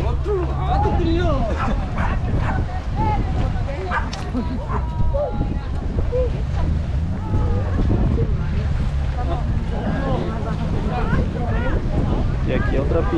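A dog barking while out on a walk along a waterfront pier, with yips and barks mixed into wind noise and nearby voices throughout.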